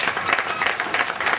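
Brief burst of audience applause at a public speech gathering, steady dense clapping from a crowd, fairly loud and close, lasting just over a second.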